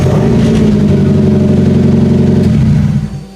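Demolition derby car engine running, started by key with the fuel pump on and gears in neutral; a loud, steady rumbling idle close by that drops away abruptly near the end.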